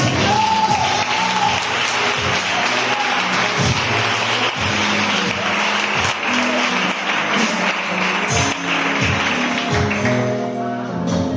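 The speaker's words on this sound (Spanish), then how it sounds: "Un aplauso al Señor." A church congregation claps through a sustained round of applause at a Thursday worship service, a broad wash of hands under steady instrumental chords and low bass notes.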